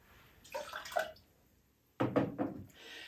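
Cranberry juice pours into a cocktail glass or shaker for a Cosmopolitan in two short splashing bursts with a pause between them, quiet and close.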